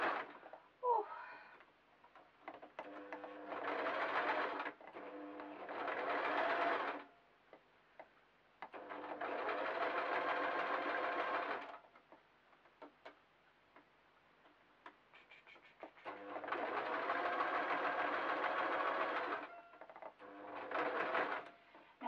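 A sewing machine stitches the long sleeve seam of a small fabric sheep door stop in bursts of steady rapid whirring, several runs lasting a few seconds each, separated by short quiet pauses.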